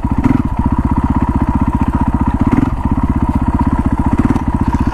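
KTM 500 four-stroke motorcycle riding in second gear, a loud, close, rapid thumping exhaust pulse with brief surges of throttle, steady and alone without talk.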